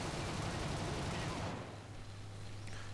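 Aircraft guns in War Thunder strafing ground targets, firing as a dense continuous burst that cuts out halfway, leaving a steady engine drone.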